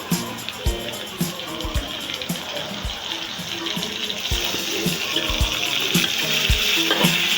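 Raw gongura (sorrel leaf) paste hits a hot pan with prawns, giving a steady, close sizzle with stirring scrapes and occasional soft knocks of the spoon against the pan, growing slightly louder toward the end.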